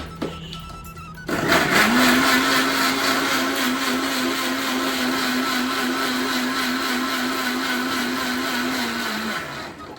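A kitchen blender kicks on after a brief quiet moment and whirs loudly and steadily for about eight seconds while blending a banana milkshake, then winds down slightly at the end.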